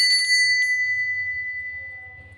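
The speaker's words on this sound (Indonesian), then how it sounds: "kita akan memulai dengan ditandai lonceng berbunyi ya" A small bell rings a single clear, sustained note to signal the start of a card game, its tone lingering and slowly fading, with a faint low hum underneath and no talking.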